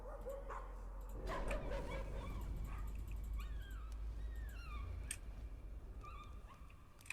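A dog barks and whimpers inside the horror video game Song of Horror, with rising and falling whines over a steady low rumble of game ambience, continuing for several seconds and moderately close.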